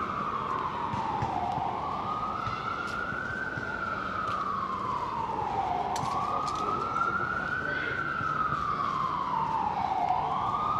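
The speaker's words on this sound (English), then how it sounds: "Looks like the ambulance is still coming up Amsterdam." An ambulance siren wails along Amsterdam Avenue on New York's Upper West Side, its pitch rising and falling in slow, steady sweeps over continuous street noise.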